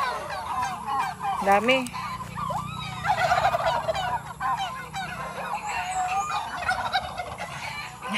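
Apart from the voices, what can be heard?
turkeys gobbling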